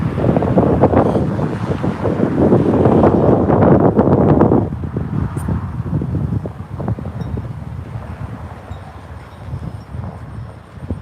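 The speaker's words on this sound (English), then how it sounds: "It's getting a bit windy around here." Strong wind buffets the microphone with loud, gusty rumbling that eases after a few seconds into a steadier, softer blustering.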